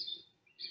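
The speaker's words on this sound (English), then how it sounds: "Ooh, Homer, there's a bird on your head." A small bird gives two high, faint chirps near an elephant it is grooming, separated by a short pause, with no talking.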